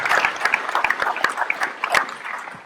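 A crowd gathered to welcome motorhome travellers in Malestroit claps in a brief, brisk round of applause, sharp individual claps close by and fairly loud.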